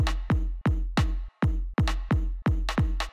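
A tightly quantized breakbeat groove pairs punchy kick drums with a clean rim shot in an even, repeating pattern, loud and dry with no talk.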